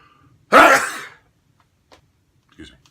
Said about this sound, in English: Oops, I gotta sneeze.